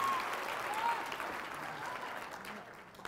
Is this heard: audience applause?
yes